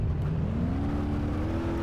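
A car backing up in BeamNG Drive, its engine droning loud and close with a rising whine as it revs in reverse, continuous for the whole moment with no talk.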